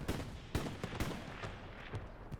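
Sniper rifle fire in the video game Hell Let Loose during a competitive match: several sharp, separate shots ring out over a steady bed of distant battlefield noise, with no talk.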